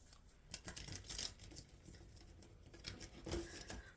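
Tarot cards being shuffled by hand, a soft papery riffling and patter in irregular bursts, close and fairly quiet with no talking.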